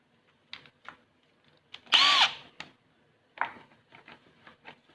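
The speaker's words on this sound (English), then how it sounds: "we'll take the front cover of the air box and using a step drill," A step drill bores into the plastic front air box cover of a Honda Super Cub NBC110 motorcycle, with short bursts of whining drilling, one louder sustained cut, and tapping handling noises between, close and alone.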